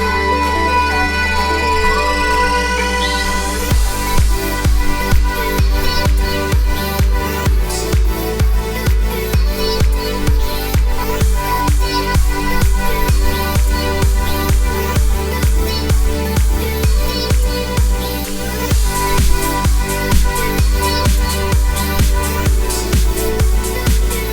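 Electronic track: a sliding synth lead and chopped vocal sample ride over a steady pulsing kick and bass, dense and loud throughout with no talking.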